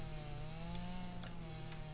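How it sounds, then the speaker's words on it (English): Chainsaw in the video game Dinkum running at a steady idle, a continuous buzzing engine hum with a few faint sharp clicks, moderately quiet and heard alone. "But he also built me a chainsaw."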